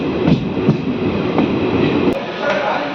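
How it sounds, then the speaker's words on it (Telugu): A DEMU passenger train pulls out of Shadnagar station, with a steady rumbling roll of wheels and carriage noise. Faint rhythmic clacks run under it, heard from on board throughout. "షాద్ నగర్ నుంచి మన ట్రైన్ బయలుదేరిపోయింది."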